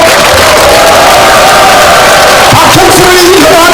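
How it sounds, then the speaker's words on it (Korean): A large crowd claps, cheers and whoops loudly and continuously at a 2024 People Power Party lawmaker's legislative report rally in Yeongju, South Korea, with shouts rising out of the dense roar. "함께 큰 박수와 함성 보내주십시오."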